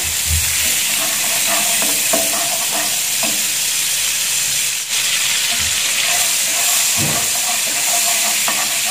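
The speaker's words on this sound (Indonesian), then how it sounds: "kita panaskan menteganya" Butter heats in a pan on the stove for a creamy beef and mushroom dish, giving a loud, steady sizzle and hiss with occasional stirring scrapes throughout.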